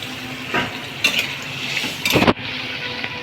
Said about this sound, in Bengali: এখন আমি লেড়ে দিব